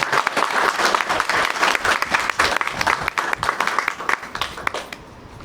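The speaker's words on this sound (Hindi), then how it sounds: "हाँ ताली बजाइए।" Applause from an audience at a satsang gathering: dense, sustained clapping from many hands, loud and close, holding steady before thinning out slightly at the end.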